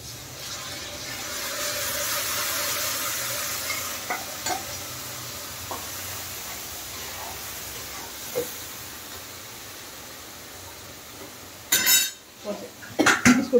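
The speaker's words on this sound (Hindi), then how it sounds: "अब सारा मसाला इसमें डाल देते हैं।" Masala is tipped into a pan of frying rohu fish: a soft sizzle runs underneath while a spoon scrapes and taps now and then, and louder pan clatters come near the end.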